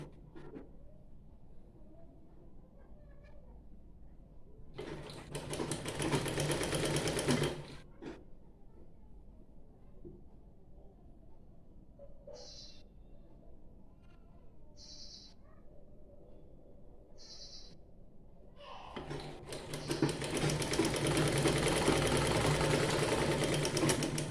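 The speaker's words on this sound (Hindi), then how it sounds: "तो अब हम इस तरीके से इधर वाले साइड पर सिलाई लगा रहे हैं।" Sewing machine stitching the collar of a dress in two loud, fast whirring bursts, with short clicks and faint squeaks in between during a quiet pause.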